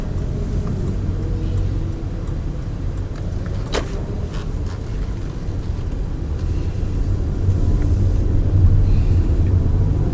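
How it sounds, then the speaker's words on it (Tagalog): Cars and traffic driving past beneath a flyover on Kalayaan toward BGC in light drizzle, a continuous low road rumble that swells slightly louder toward the end, with no talk. "maraming mga sasakyan na tumatawid din."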